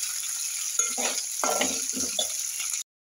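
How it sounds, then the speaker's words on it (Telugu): Okra pieces frying in hot oil give a steady bright sizzle throughout, with a few stirring scrapes and clinks in the middle, close and continuous, ending abruptly in silence. "ఇప్పుడు ఇది ఆయిల్లో మళ్ళీ బెండకాయ ముక్కలు వేసి వేయించుకున్నాం."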